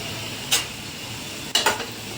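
Quiet sizzling of chili powder and sesame seeds in a frying pan with a couple of brief scraping stirs, one then a pair, no voices.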